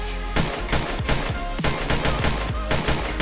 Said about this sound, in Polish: Wow, a co to za strzały?